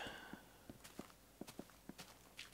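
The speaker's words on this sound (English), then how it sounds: "I hear footsteps, so I'm being followed." Footsteps in a Minecraft game, with a creeper following close behind, land as soft, irregular thuds and scuffs. They are fairly quiet and heard alone, with no talk.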